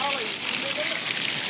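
Rain pours steadily in a Nepali hill village, a continuous hiss with a voice talking faintly underneath.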